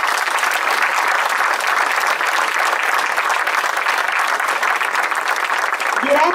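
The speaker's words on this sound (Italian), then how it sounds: "alla quale farei un applauso." An audience applauds an orchestra at a concert presentation, a steady, dense, sustained burst of clapping that holds evenly throughout, with a brief sound at the very end.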